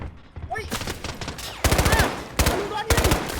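Gunfire in the shooter Delta Force rattles in rapid automatic bursts, loud and close, with short pauses between volleys and a few faint voices underneath.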